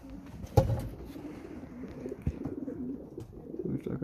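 Pigeons coo in a compartment of a pigeon aviary under demolition, low soft rolling coos repeating close by, with a sharp knock near the start and light rustling between calls.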